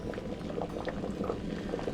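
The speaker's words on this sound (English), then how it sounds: "Okay, so I got a nice good rolling boil." Water at a rolling boil in a pot on the stove, a steady close bubbling and churning with no talk.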